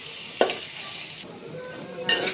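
Dried fish (shutki) stirred and frying in a pan with chili powder and browned aromatics, a steady sizzle broken by two scraping stirs of a utensil against the pan, close and moderately loud.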